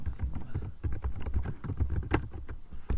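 Typing on a computer keyboard during a coding session on mathematical thinking, with steady irregular clicks of keys struck close by, carrying on throughout without talk.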